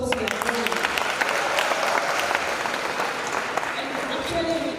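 Audience clapping at a drama festival award ceremony in Kasarani, Nairobi: dense, steady applause from a large crowd throughout, with voices mixed in underneath.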